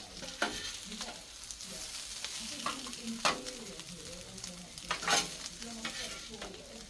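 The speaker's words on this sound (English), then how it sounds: "I'm going to put them onions in there now just to keep them warm" Onions frying in a pan alongside a double chicken and cheese burger, a soft close sizzle broken by several brisk scraping stirs that rise and fall in loudness.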